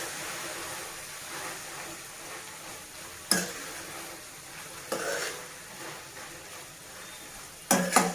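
Mint being stirred into tomato chutney in a pan, with a steady soft frying sizzle underneath and a few sharp clinks of a spoon against the pan, close and moderately quiet, no voices.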